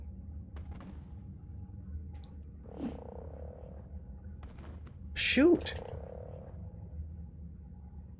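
A frog creature in ARK: Survival Evolved croaks twice, the second croak louder, over a low rumbling game ambience while someone talks.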